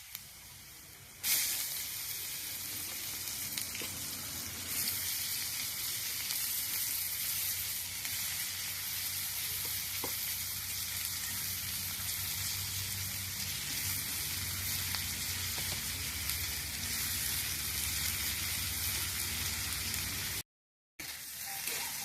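Bamboo shoots and potatoes sizzle and fry steadily in a pan, a continuous close hiss with faint stirring clicks and a brief cut near the end.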